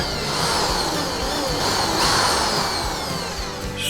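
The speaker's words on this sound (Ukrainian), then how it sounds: "Далі в цьому місці свердлимо отвори." Drill boring holes in a part for a homemade speargun, a steady high whir with pitch shifting under load, close and continuous throughout.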